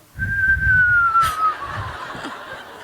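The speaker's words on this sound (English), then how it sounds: "Does a low whistle." A single low whistle glides slowly downward, close and clear, for about a second and a half, followed by faint chuckling in the room.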